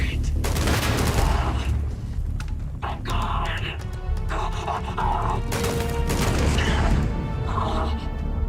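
Gunfire and explosions from the video game Starfield, including grenade launcher fire, come as loud, dense bursts of shots and crashes throughout, with a voice talking over the action.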